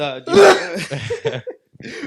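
A single sharp sneeze bursts out up close, followed by a few short, muffled vocal sounds.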